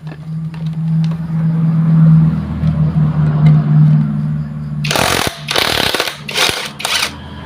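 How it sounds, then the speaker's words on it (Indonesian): A pneumatic impact wrench loosens bolts on a jet water pump, firing in several loud, close rattling bursts near the end, after a stretch of low motor rumble and workshop noise. "karena kita menggunakan impact. Jadi ini sangat mudah teman-teman."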